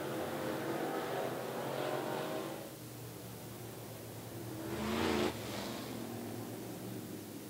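Sportsman-division stock cars racing at 411 Motor Speedway, engines roaring at moderate distance, one car swelling past mid-clip before the sound settles back into a steady far-off drone.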